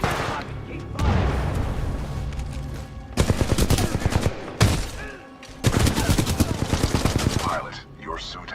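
Bursts of rapid automatic gunfire in a futuristic pilot shooter game, loud and close, coming in several sustained volleys with short gaps between them while background game noise continues underneath.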